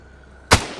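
A single shot from a gun set to single-fire mode in the video game Beyond Sandbox, one sharp close report over a quiet hum, followed by a brief fading tail.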